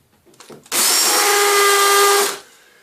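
A few faint knocks, then a cordless drill with a small-diameter bit whines loudly and steadily at high speed into a wall for under two seconds before stopping abruptly.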